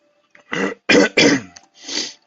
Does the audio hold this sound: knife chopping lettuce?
no